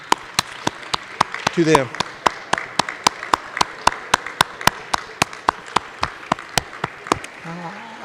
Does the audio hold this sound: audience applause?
yes